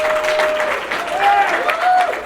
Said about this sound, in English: give yourselves a round of applause for being here and doing that.